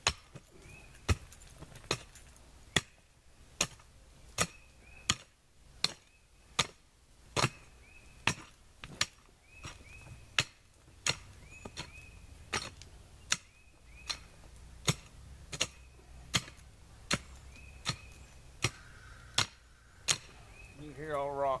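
Sharp, regular metallic strikes of a digging tool biting into rocky ground while a foxhole is dug, roughly one blow per second, close and loud over a low background rumble.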